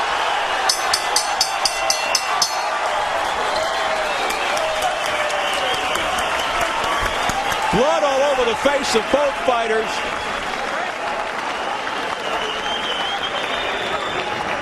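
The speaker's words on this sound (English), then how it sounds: "The crowd salutes these two, and Marquez hears it from the fans." An arena crowd at the Juan Manuel Marquez vs Rocky Juarez boxing match cheering and applauding the fighters, a continuous roar of clapping and shouts under a commentator's talk, with sharp knocks early on.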